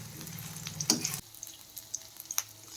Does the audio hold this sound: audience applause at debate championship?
no